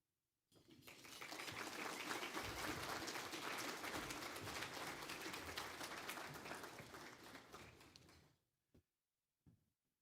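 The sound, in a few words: audience applause for the board president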